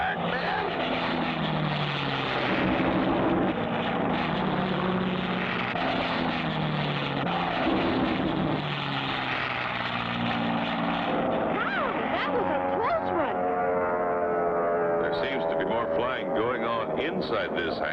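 A propeller airplane in a cartoon turns toward a hangar and circles it, its engine a continuous droning hum running under steady talking throughout, with a rising whine near the end.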